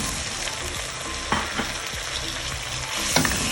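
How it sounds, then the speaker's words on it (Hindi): Eggs and potatoes frying in spiced oil in a pan, a steady close sizzle with occasional spoon scrapes and taps while being stirred, no voices. "और हमने इसको इसके अंदर सिर्फ 1 या 2 मिनट भूनना है ताकि इसके अंदर अंडों में थोड़ा सा ये मसाला ये छू जाए।"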